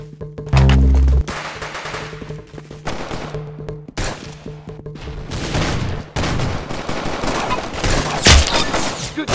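Rapid bursts of video-game gunfire, a heavy automatic volley up front followed by scattered shots and impacts, loud and close throughout.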